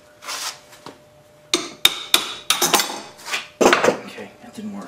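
A metal wrench struck sharply several times against a fitting on a homemade water-cooled Briggs engine, sharp ringing clanks in an irregular burst, close and loud.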